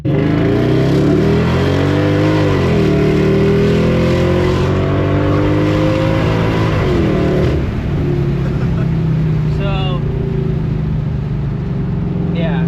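A supercharged 2005 Mercedes-Benz E55 AMG sedan engine revs hard and climbs through gears, loud and close, with a shift and renewed acceleration partway through.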